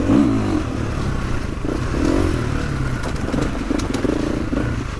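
A GASGAS dirt bike engine revs steadily while riding, a constant close motor drone with rising and falling pitch and some clattering, with no talking.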